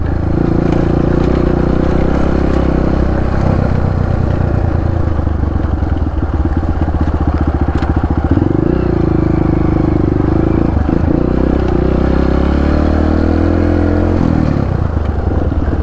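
A motorcycle rides over a rough, slippery road, its engine droning loud and close throughout while the bike clatters and scrapes over the uneven surface.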